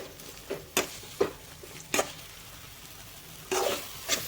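Grated raw mango tempers in a pan for mango rice, a quiet sizzle punctuated by several sharp spatula scrapes and stirs at uneven intervals.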